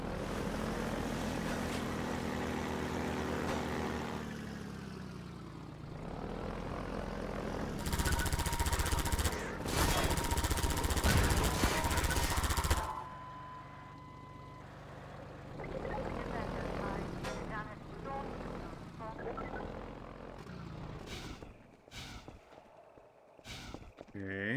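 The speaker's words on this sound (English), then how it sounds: "Helicopter Final Battle. We designed this area as the arena for the final showdown between the player and the Combine attack helicopter." The Combine attack helicopter roars through the final battle arena in Half-Life 2, loud rotor and engine noise surging in heavy bursts with gunfire-like blasts, fading to quieter rumbles and scattered hits later.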